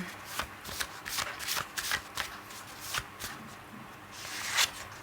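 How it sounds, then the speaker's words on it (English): Tarot cards being drawn and shuffled from a deck, giving a run of soft papery flicks and slides at close range, irregular in rhythm, with no talking. "I'm just pulling out some cards from my own deck."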